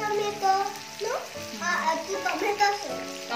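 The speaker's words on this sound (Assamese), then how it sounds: "টমেটো চচ দি দিলোঁ এতিয়া লৰাই দিওঁ" Chilli pork frying in a pan with tomato sauce, stirred with soft scraping and a low sizzle as a voice talks over it.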